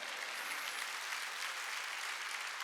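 A church congregation at a Wednesday worship service claps together in a steady, dense wash of applause, heard from within the room without pauses.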